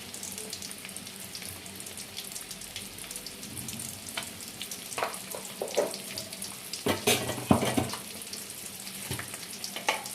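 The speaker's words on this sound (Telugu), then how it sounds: "ఇలా ఎగ్స్ ఆయిల్లో ఫ్రై అవుతున్నప్పుడు ఒక స్పూన్ అంతా పసుపు వేసుకోవాలండి." Boiled eggs fry in hot oil with turmeric, giving a continuous close sizzle. Sharper crackles and bursts grow louder toward the end, mixed with watery, splashy textures.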